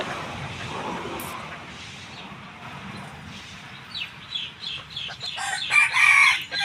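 Young hen calls build toward the end, loud clucking and cackling bursts rising after a quieter stretch of faint background noise.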